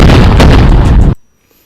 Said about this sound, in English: And when this happens, it creates sonic booms.